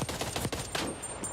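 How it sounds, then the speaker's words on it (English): Rapid bursts of gunfire crackle in quick succession, sharp and fairly faint, in a firefight in the video game Call of Duty: Black Ops Cold War multiplayer. "It's just nice to kind of hear the gunfire of the various guns again."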